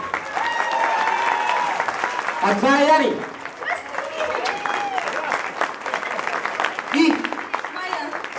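Audience applause for performers at a Bulgarian concert in Montreal, a broad wash of clapping under a host's loud announcing voice, swelling and easing across the stretch.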